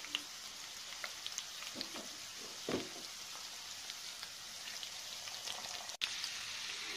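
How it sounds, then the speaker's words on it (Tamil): Okra (lady's finger) frying in a pan over a high flame, giving a steady close crackling sizzle with scattered pops, left undisturbed and without stirring. "இது அப்படியே ஃப்ரை ஆகட்டும், உடனேலாம் கிளறாதீங்க"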